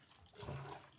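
Water runs briefly from a tap while freshly harvested pechay is washed, a short close splash and gush of flowing water with no talk.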